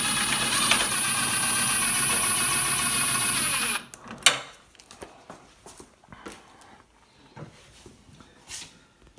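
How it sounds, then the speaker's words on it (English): A power drill whirs steadily for several seconds while raising a headlight unit on a Pontiac Trans Am, then stops, followed by scattered clicks and clunks of handling parts nearby. "So I'm going to use my power drill here"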